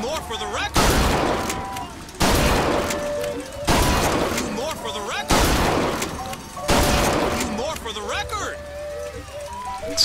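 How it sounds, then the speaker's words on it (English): Shotgun fire in BioShock Infinite, five loud booming blasts spaced roughly every one and a half seconds, each with a long decaying tail, mixed with game effects and a voice talking over them. "Shotgun is like a ridiculous weapon in this game"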